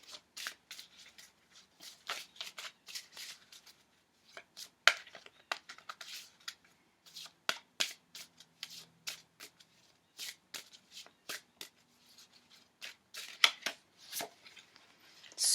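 Tarot cards are shuffled by hand in soft, crisp riffles and slides that repeat in irregular bursts, close and quiet, with no talking.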